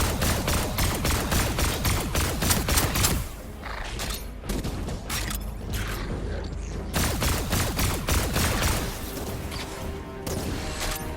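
A weapon hip-fired rapidly in Fortnite Save the World, with dense, fast, continuous mechanical shots and rattling clatter that run almost without a break and stay fairly loud throughout.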